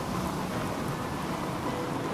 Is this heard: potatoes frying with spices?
no